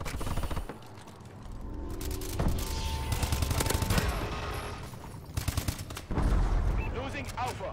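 Gunfire from an XS-1 Vulcan in the video game Call of Duty Advanced Warfare: loud, dense bursts of rapid shots with mechanical clatter that continue through most of the clip, mixed with game sounds.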